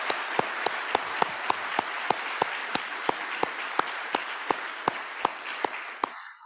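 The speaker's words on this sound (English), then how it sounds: "let's give them a round of applause." Audience applause at an awards celebration, a steady run of evenly spaced sharp claps over a dense bed of clapping, loud and close, fading at the end.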